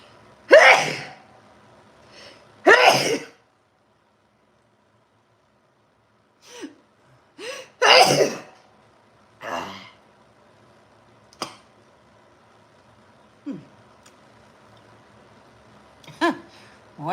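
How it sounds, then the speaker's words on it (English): Several sharp sneezes burst out at irregular intervals from someone close by, with quiet pauses and a few faint clicks and breaths in between. "I had to sneeze."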